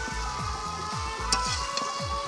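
Poha (flattened rice) seasoned with salt and turmeric sizzles in a pan while it is stirred continuously, a soft steady frying hiss with a rhythmic scraping pulse from the stirring, close and without speech.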